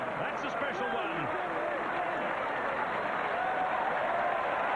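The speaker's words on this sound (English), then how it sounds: "the applause is louder" Dense stadium crowd applause at a Romania versus New Zealand XV rugby match, a steady broad roar of clapping and crowd noise that holds throughout, with a commentator's voice faintly underneath.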